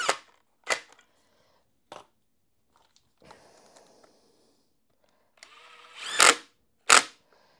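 Bosch GDR18V-220C cordless impact driver sinking screws at full speed, heard as a few short sharp bursts, with two loud close hits near the end separated by brief quiet gaps and some faint handling noise.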